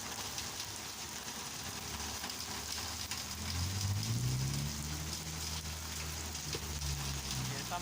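Heavy rain pours steadily onto a road in Chimalhuacán during the rainy season, a dense continuous hiss of drops with a low engine rumble rising underneath midway.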